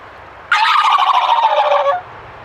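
Gobble tube call imitating a wild turkey gobble, one loud rattling burst lasting about a second and a half, close and alone.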